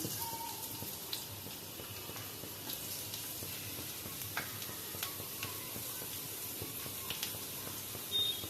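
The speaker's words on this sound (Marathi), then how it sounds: "तेल तापलं आपलं की मी बारीक चिरलेलं लसूण टाकून घेते" Finely chopped garlic sizzles in hot oil in a home kitchen while making cabbage Manchurian, a steady broad hiss with occasional faint clicks and taps, fairly quiet and without any talking.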